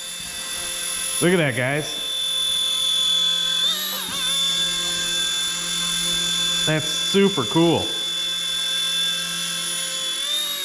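A Motion RC mini helicopter hovers at about eye level after an automatic takeoff, its steady high-pitched motor and rotor whine continuous throughout while someone talks over it in short bursts.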